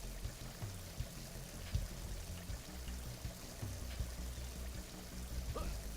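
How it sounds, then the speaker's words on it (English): Waterfall in the forest area of the video game Obey the Insect God, a steady rushing pour of falling water at moderate distance, continuous and unbroken with faint low tones beneath. "That is an actual waterfall with actual water that falls."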